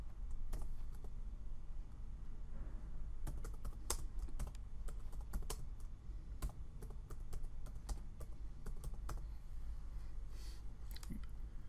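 Typing on a computer keyboard while entering lettering text in embroidery software: quiet, close, irregular keystroke clicks in short clusters with brief pauses, alone without talk.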